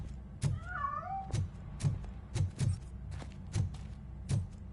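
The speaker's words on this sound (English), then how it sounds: "That cat must be hiding inside." A single short meow from a cat in a video game rises over a regular pattern of soft thumping knocks, heard fairly quietly with no talking.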